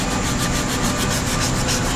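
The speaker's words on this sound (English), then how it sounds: "just sitting here and fine-tune sanding" Fine hand sanding on a 1952 Chevy body panel makes a continuous, close rasping scrub with a quick rhythmic back-and-forth pulse, steady and loud throughout.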